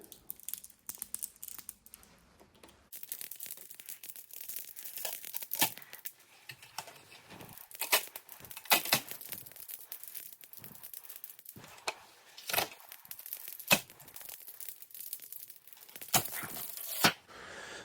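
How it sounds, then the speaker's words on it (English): A sticky adhesive overlay being slowly peeled off the control panel of a Kenmore wall oven, a series of dry crackling, tearing rips coming in irregular bursts close to the microphone. "you can peel it off slowly"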